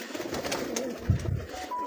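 Pigeons coo on a rooftop in Punjab where competition flying pigeons are kept, giving a couple of soft, low, throaty coos over steady background hiss with no talking.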